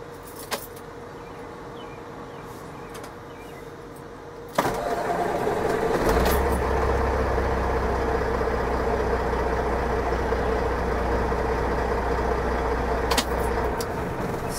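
A truck engine cranks and catches after a click and jangle of keys, then settles into a steady low idle that rumbles on close by for several seconds.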